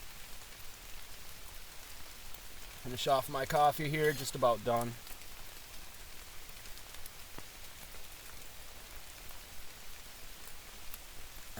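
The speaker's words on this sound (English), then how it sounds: "Check out some rain." Steady rain falls on a lean-to shelter at an overnight campsite, a soft continuous patter throughout, with someone speaking briefly near the middle.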